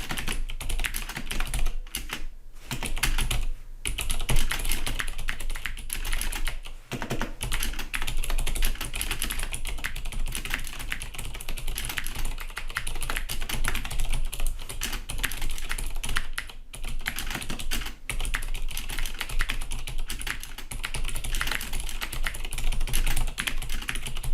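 Fast, steady typing on a computer keyboard, a close, continuous clatter of keystrokes with only brief pauses, entering a whole paragraph of text, with no talking.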